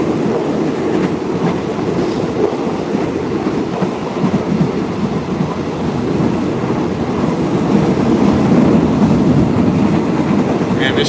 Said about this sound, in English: This is not the longest train ride I've ever taken, though.